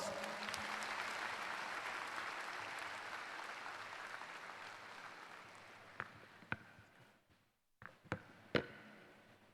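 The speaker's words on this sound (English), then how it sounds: "Let us give him a resounding round of applause." Applause at a university commencement ceremony rolls through a large audience. It fades out gradually, and a few final isolated claps ring out in the quiet that follows.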